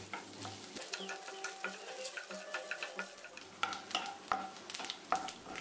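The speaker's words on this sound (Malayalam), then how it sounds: "നെയ്യ് ഒന്ന് ചൂടായി വരുമ്പോഴേക്കും കുറച്ച് തേങ്ങക്കൊത്ത് ഇതുപോലെ ഒന്ന് ചെറുതായിട്ട് അരിഞ്ഞ് ചേർത്ത് കൊടുത്തിട്ട് ഒന്ന് ഫ്രൈ" Chopped coconut pieces frying in hot ghee in a pan, a steady close sizzle broken by spoon-stirring scrapes and taps that grow louder toward the end.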